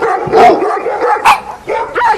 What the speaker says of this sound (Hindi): सभी कुत्ते उसका पीछा करने लगे।